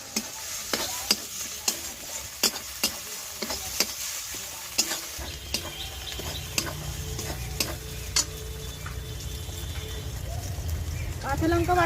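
Ginger paste is added to a pan of jackfruit and prawns. Sharp tapping clicks from a spoon against the pan come first, then a broader frying sizzle rises and stirring continues beneath it.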